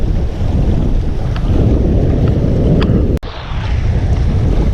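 Strong wind batters the microphone at sea from a fishing boat, a loud continuous roar of gusts with water and waves beneath, briefly cutting out before rising again.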